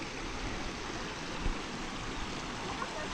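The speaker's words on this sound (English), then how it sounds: "So this is where the water runs down to the big waterfall" Stream water running over rocks at the top of a waterfall in Litchfield National Park, a steady, close broadband rush that stays even throughout with no voices.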